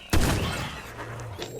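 Gunfire in the video game Clawed: a sudden loud burst of shots at the start, then a ringing, rumbling tail that slowly fades, with faint noise flaring again near the end.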